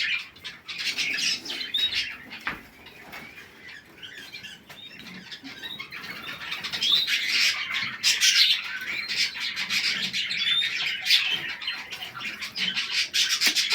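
Many pet canaries and other cage birds chirp and squawk together in a dense, continuous chatter, close and fairly loud, with occasional rustling and flapping.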